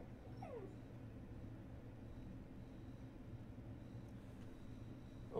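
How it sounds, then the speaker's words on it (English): A dog gives a big yawn with a brief whiny squeak that slides down in pitch near the start, faint beneath a steady low background hum. "My dog just did a big yawn."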